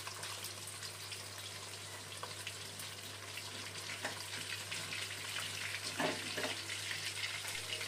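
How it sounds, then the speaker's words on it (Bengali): Pabda fish frying in oil in a pan, a steady close sizzle and crackle running throughout with a few brief clinks and scrapes near the end. "মাছটা উল্টে দিয়ে মাছের 2 পিঠটা ভালো করে ভেজে নেব।"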